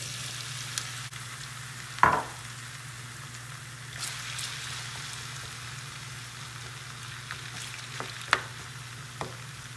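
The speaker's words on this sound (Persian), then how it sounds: "تا که کالباس خود کچلو سرخ میشه" Potatoes and sausage fry in hot oil, a soft continuous sizzle with an occasional sharp pop or utensil tap, fairly quiet and with no talking.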